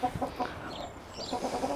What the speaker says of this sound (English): Birds always want to talk to me when I come up here.